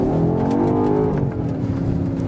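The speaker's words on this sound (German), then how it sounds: "und jetzt beschleunige ich mal kurz" 2020 BMW X5 M Competition with 625 PS accelerating hard, its engine note rising in pitch as it revs, heard loud and steady from inside the car with no talking.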